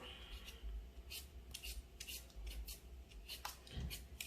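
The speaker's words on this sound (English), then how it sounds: "I'm peeling my potatoes." Potatoes are scraped with a handheld potato peeler, giving a series of short, close scratchy strokes in an irregular rhythm with quiet gaps between them.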